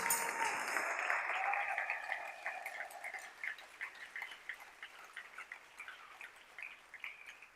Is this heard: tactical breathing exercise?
no